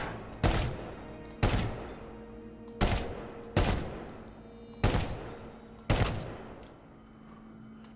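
Repeated bursts of gunfire in Medal of Honor: Warfighter crack out roughly every second, six sharp loud volleys with brief ringing tails, over a low steady hum typical of game audio.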